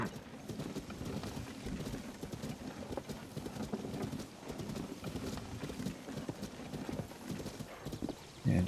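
Horse hooves clip-clopping at a steady walking rhythm in The Legend of Zelda: Tears of the Kingdom, close and moderately loud, continuing throughout with a brief louder thump at the end.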